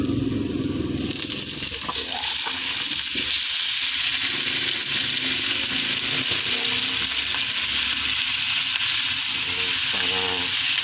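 Chicken pieces sizzle and fry steadily in a hot pan while being cooked for Filipino tinola, a loud continuous crackle with occasional stirring scrapes and no talk.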